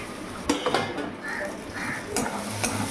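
Spices with turmeric for egg curry being stirred and fried in a pan, soft sizzling under a few scattered spatula scrapes and light clinks, fairly quiet and close.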